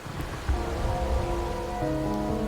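Rain pours down in the game Wuthering Waves, a dense, loud steady wash of drops with low rumbling beneath and soft tonal music layered over it, no talking.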